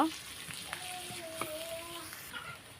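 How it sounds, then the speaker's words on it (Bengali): Chopped onion fries in hot oil in a wok, a soft continuous sizzle with a few faint clinks and scrapes of stirring, and a voice in the background. "এখন আমি পেঁয়াজ কুচি দিচ্ছি। পেঁয়াজ কুচিটা আমি 2 মিনিটের মতন ভেজে নেব।"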